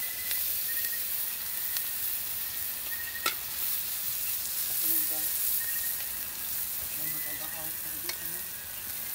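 Garlic and onion fry in a pan with a steady, close sizzle and hiss, broken by occasional scraping stirs, while a voice speaks faintly in the background.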